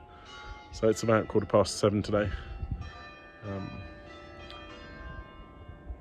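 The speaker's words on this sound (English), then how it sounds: "So if you hear in the background, that's the Angelus." The Angelus church bell in Tuscany rings about an hour before sundown. It is heard as distant tolling and ringing under someone talking close by, and it carries on faintly after his words stop.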